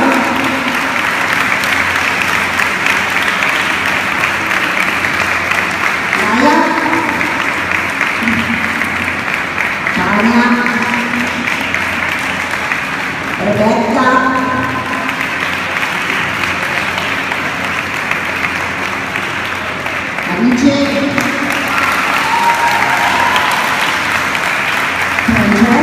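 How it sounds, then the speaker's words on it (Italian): Steady audience applause fills a children's event, continuous and fairly loud throughout, with a presenter's voice calling out over it at intervals. "un applauso a tutti"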